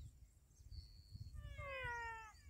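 A frog with a cat-like call (sapo gato) lets out a thin high note and then a louder, drawn-out meowing wail near at hand, with steady low background rumble underneath.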